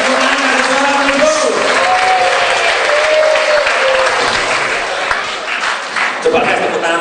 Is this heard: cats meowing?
no